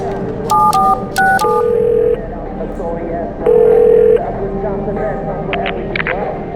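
Touch-tone telephone keys being dialed in the video game The Darkness: two quick bursts of paired beeps followed by steady tones, loud over a murmuring ambient background.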